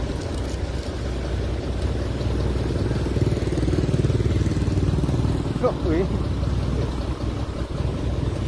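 A motorbike engine drones steadily on a Vietnamese road, a continuous mid-pitched hum that holds for several seconds with traffic noise around it, while people talk nearby.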